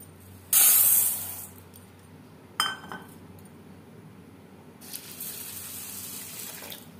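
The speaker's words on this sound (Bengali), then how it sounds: "ডাল আমি পরিষ্কার করে ধুয়ে নেব।" Tap water running into a sink while masoor dal lentils are washed, in two short gushes then a longer softer flow, with faint clinks of a vessel between them.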